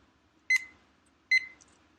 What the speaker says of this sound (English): 10 minutes is going on the timer